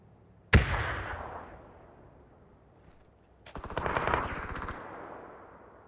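Video game gunfire in PUBG, fired from the hip: a single sharp shot rings out and fades, then after a pause a fast, close burst of automatic fire rattles for about a second and trails off.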